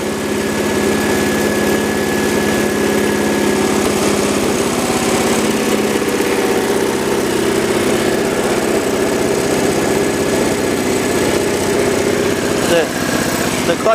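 A Cub Cadet 1200 garden tractor engine idles steadily and loudly throughout, a constant close-up chugging drone with a faint hum riding over it.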